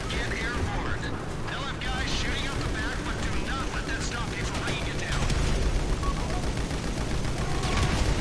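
Gunfire in GTA 5, steady dense bursts of shots and rattling blasts that run the whole time, fairly busy and mid-distance, with a voice talking over the action.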